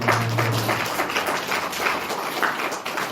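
A church congregation claps for God during a Hindi worship service, a dense, continuous burst of many hands clapping together close by, with a brief low hum at the start.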